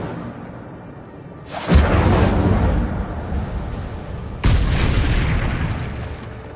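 Two heavy whooshing fire bursts from the Incendio spell in Hogwarts Legacy, each a loud roaring flare that rises sharply and then trails off slowly, with the second following a few seconds after the first.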